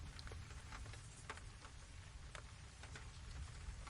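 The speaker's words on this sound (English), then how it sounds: "the sound of rain, still falling softly on the roof of the lodge in the waking world" Soft rain falls on the roof of a lodge as a gentle, steady patter with scattered faint drops, quiet and continuous, with no voices.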